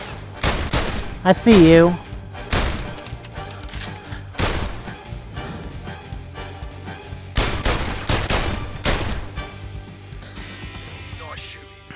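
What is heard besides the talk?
gunshots from the VR video game London Heist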